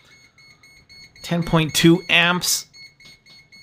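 An ANNMETER AN-42B multimeter beeps its over-current alarm in a rapid, steady series of high tones that run under and around someone speaking a reading aloud.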